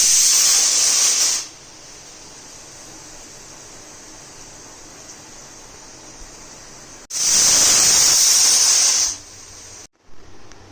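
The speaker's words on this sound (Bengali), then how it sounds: "একটা সিটি দেওয়া অবধি আমি সেদ্ধ করব, তারপরে সঙ্গে সঙ্গে সিটি অফ করে দেব।" A pressure cooker boiling taro stolons lets out bursts of steam, a loud sustained hiss at the start and another a few seconds later, with a quiet low bubbling hum between.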